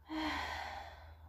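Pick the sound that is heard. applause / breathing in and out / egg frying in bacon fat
breathing in and out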